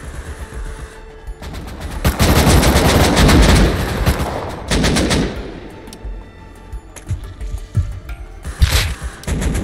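Rapid automatic gunfire from the video game Rust Console Edition rattles loud and close in dense bursts, with scattered further shots and impacts trailing off afterward.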